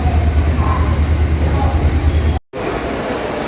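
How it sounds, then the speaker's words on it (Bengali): Train halted at Kamakhya station near Guwahati, a steady low rumble of idling rail equipment with broadband platform noise, loud and continuous apart from a brief dropout near the end. "ট্রেন এখন দাঁড়িয়ে আছে কামাখ্যা স্টেশনে।"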